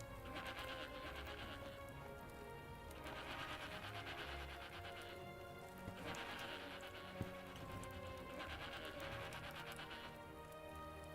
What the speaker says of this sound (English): All I hear is goats.